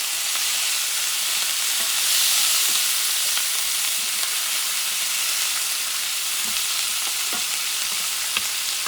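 Steady, loud sizzle of a pot of rice and beef ribs frying as sofrito and vegetables go in, a continuous hiss with faint stirring clicks and no voices.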